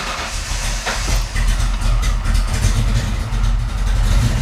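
A Foxbody Mustang V8 fitted with a Holley Terminator X fuel injection system cranks and catches, settling into a steady, loud, close engine rumble with no talking.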